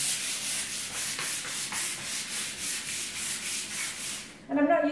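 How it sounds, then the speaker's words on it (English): Wood being rubbed with ordinary general-purpose sandpaper, in steady back-and-forth strokes about a dozen times, close and fairly loud, before a brief different scraping noise at the end; no one talks. "I'm not using any special sandpaper"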